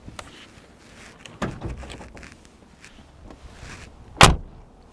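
A few soft clicks and rustles lead up to a single solid thud of a Mercedes G65 Final Edition G-Class door shutting near the end.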